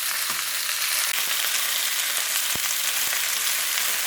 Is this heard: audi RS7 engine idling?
no